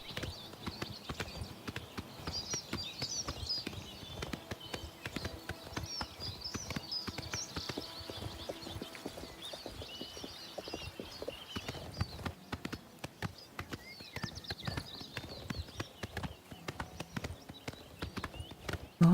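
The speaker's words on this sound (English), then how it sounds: "Oh, this with the horse is actually quite fast." Horse hooves galloping in the Oblivion Remastered video game: a rapid, steady clip-clop of hooves at moderate distance, running continuously with some game ambience and no talking.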